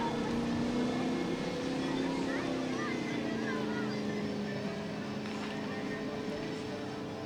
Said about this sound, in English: we'll get that Moomba Max back up to speed so she can continue pass number 1.